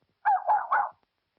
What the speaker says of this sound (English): Oh, what kind of a dog is this?